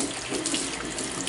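Cold water runs steadily from a tap into a sink, a loud, continuous close-up splashing gush with no voices.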